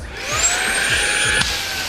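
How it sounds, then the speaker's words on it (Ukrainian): Rowenta X-Force Flex 14.60 Aqua cordless vacuum cleaner switched on, its motor whine rising in pitch and then holding a steady close whir, with a brief knock partway through. "І ви просто вмикаєте пилосос"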